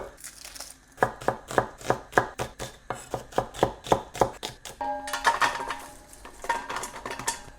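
A knife thinly slices onions for a Nepalese-style potato pickle. Crisp, close chops fall in a quick, even rhythm against the board, then turn into a looser, clattering run of cuts.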